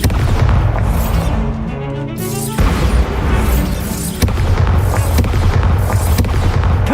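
Spell blasts from Bombarda and Confringo in Hogwarts Legacy land as repeated loud booming explosions with crackling debris, striking one after another and sometimes overlapping, with no talk over them.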